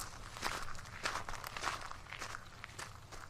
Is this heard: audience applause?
no